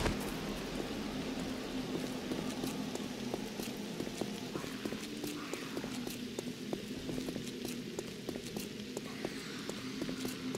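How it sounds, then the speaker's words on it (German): Steady rain falls throughout in the survival game 7 Days to Die, a dense continuous hiss with scattered drop-like ticks, fairly faint and constant, with no talk over it. "Warum fängt es wieder an zu regnen, ey?"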